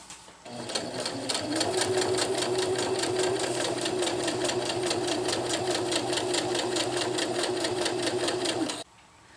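A sewing machine stitches a zipper onto a jungle hammock, running in a steady, rapid, close-up mechanical chatter for about eight seconds before stopping abruptly.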